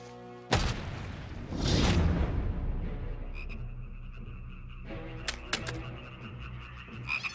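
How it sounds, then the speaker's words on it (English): A sudden boom and whooshing rush give way to a chorus of frogs croaking in repeated, rattling calls that layer and pulse. "And frogs came up out of the river and spread over the land"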